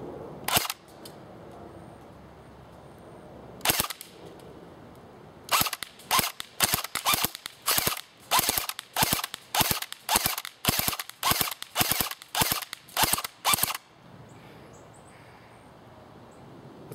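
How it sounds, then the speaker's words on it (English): An AGM WW2 Sten Mk II airsoft AEG fires at a target: two isolated cracks, then a rapid, evenly spaced string of about a dozen sharp shots. The shots are loud and close, and quiet background noise follows. "what you're seeing here is the AGM Sten, and I'm going to be firing on the left target."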